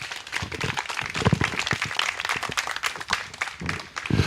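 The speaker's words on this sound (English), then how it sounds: "let's give them all a round of applause" Audience applause at a Sunday spiritual gathering, a lively round of many hands clapping close and loud, holding steady for several seconds with occasional stronger claps.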